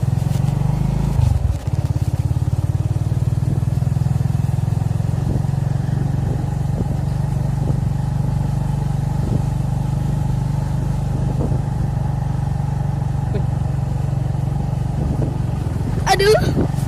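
A motorcycle engine idles steadily after being kick-started on an Indonesian town road, a low, close, continuous rumble with light clatter throughout and a brief scrape near the end.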